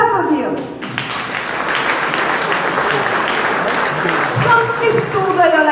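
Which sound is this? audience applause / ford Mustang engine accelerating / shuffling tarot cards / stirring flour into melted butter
audience applause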